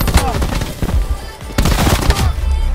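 Rapid bursts of automatic gunfire in the shooter game Black Ops 4, loud and close, with sharp cracks coming in two clusters and brief gaps between them.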